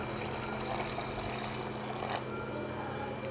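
Water is poured into a bowl of sifted gram flour and whisked yogurt for kadhi batter, a steady, fairly faint liquid splashing and trickling that carries on throughout.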